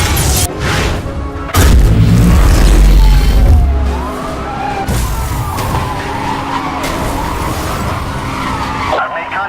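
A car crash in the racing game Need for Speed Hot Pursuit: a heavy impact boom with skidding and grinding metal, followed by loud engine roar and tire noise that continue throughout.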